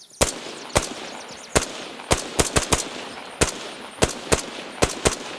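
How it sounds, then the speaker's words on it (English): Gunfire in the Arma Reforger video game with a Peltor hearing-protection headset enabled: about a dozen sharp, loud shots, fired singly and in quick pairs, with a hissing background between them. "So let us compare the firing. This is with disabled Peltor. Now we enable the Peltor."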